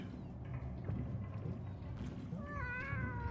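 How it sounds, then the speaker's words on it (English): Cats in a video game meow in a short series of rising, whining calls that come in near the end over a busy game background with faint clops. "Don't worry, kitties."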